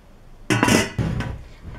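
Steel cooking pots, including a 24 cm five-litre pot, clank and scrape as they are handled, with a couple of loud close metallic knocks and no talking.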